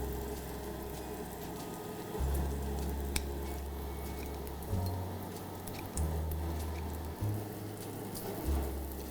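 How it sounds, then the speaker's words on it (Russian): Samgyeopsal pork belly sizzles on a barbecue grill with a steady crackling patter, while low hum pulses come and go underneath. "мы ищем те кусочки, которые уже хорошо прожарены, их потихонечку начинаем вытаскивать из гриля и дожаривать остальные кусочки"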